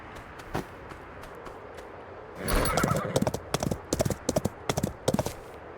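A pony in the video game Escape from Duckov gives a loud whinny, then a run of rhythmic hoof clip-clops follows steadily and close, with no talking over it.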